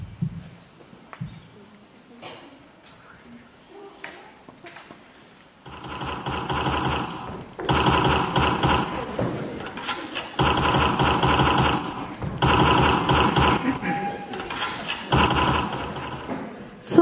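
Staged gunfire at a school performance about the 1914 Sarajevo assassination and the start of the First World War: after quiet, a dense rapid burst of shots erupts and runs in loud rattling waves for about eleven seconds.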